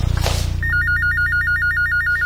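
A telephone bell rings in a home, a rapid trilling electronic ring pulsing loudly and steadily over a low background hum.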